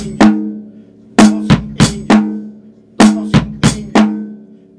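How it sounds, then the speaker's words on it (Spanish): Kick drum and snare (tarola) beating out a drum pattern, sharp close strikes in uneven groups of two and three with brief gaps between them, played alone with no talking. "vamos a tocar este mismo patrón rítmico, el bombo y la tarola tal y como está"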